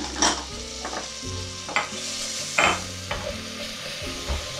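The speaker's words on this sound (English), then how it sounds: "We're going to add our garlic and red pepper flakes." Garlic and red pepper flakes sizzling in a hot oiled pan, a continuous close frying hiss broken by several stirring scrapes and knocks, with a low hum running underneath and no speech.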